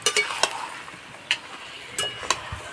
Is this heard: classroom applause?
no